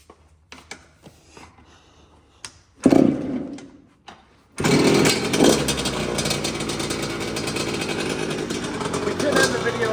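A 2024 Yamaha R1 motorcycle starting up, some clicks and a short starter crank, then the engine catches into a loud, steady, crisp idle that holds on strongly.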